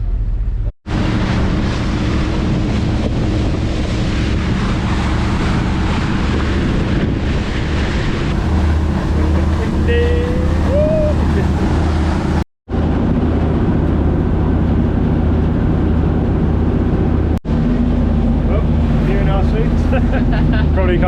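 Boat leaving a marina and heading out onto rough open sea near the Cook Islands, with heavy wind buffeting the microphone and waves and engine rumble running continuously, broken by brief dropouts, while voices talk faintly underneath.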